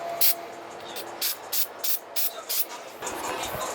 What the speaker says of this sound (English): I'm gonna spray it in some carb thinner out now, get all the gunk off